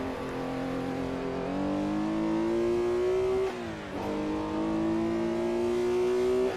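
Historic sports racing cars in the game Assetto Corsa, at the Goodwood circuit, roar loudly and steadily as the engine revs climb, dip briefly around a gear change, then rise again.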